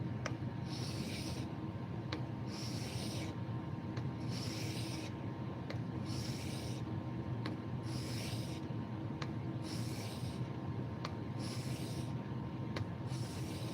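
Rhythmic rasping strokes on a 3000 grit Amazon Basics whetstone, about one pass every second, repeating steadily and close-up over a constant low background hum, with no talking.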